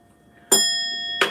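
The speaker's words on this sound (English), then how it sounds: "Keep in mind, the bell is ringing." A bell rings during a live-streamed talk show: two sharp metallic strikes about 0.7 seconds apart, the first leaving a clear, sustained ringing tone that hangs in the air until the second strike, heard alone without talk.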